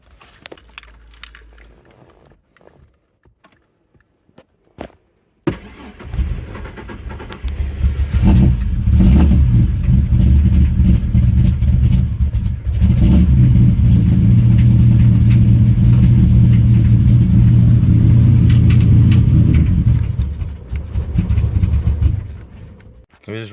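A 1993 Ford Fairlane with a stage 4 cammed AU Tickford engine, installed on jacks and fitted with a temporary MAF sensor hose, cranks and catches after a quiet start, then runs loud and steady with a rough, lumpy idle and a few revs.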